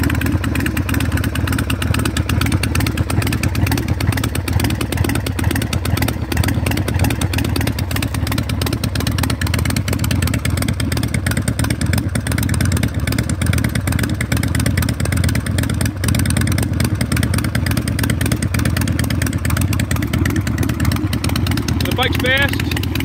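An Evo Sportster 1275cc chopper motorcycle with a Hammer kit in 70s old school style idles after a cold start with the enricher on, a loud close steady rumble with rapid mechanical ticking and slight revving, and a voice faintly underneath.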